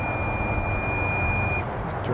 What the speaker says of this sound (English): we're going to be looking for the breaker that gives a constant beep